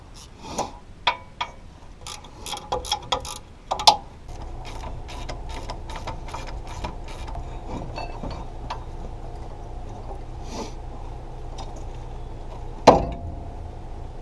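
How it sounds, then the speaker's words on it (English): Brake caliper bolts of 17mm are loosened on a Toyota 4Runner: a burst of sharp metallic clicks and ratchet ticks from a wrench, then a steady hum with a couple of loud clanks, close up and without talking. "Go ahead and remove these two 17mm bolts that hold the brake caliper in"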